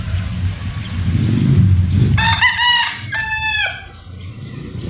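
A broodcock rooster crows loudly and close by, its long harmonic call repeating in two drawn-out bursts over low farmyard rumble.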